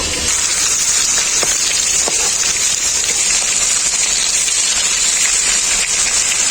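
Chingri (prawns) sizzling in hot oil for a malai curry, a loud, steady frying hiss with faint crackles running throughout, without any talk.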